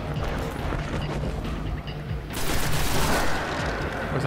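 Sustained automatic gunfire in Destiny, a sci-fi shooter, aimed at a hulking Knight enemy: a dense, continuous rattle of shots that thickens and grows louder partway through, with impacts and mechanical clatter blended in.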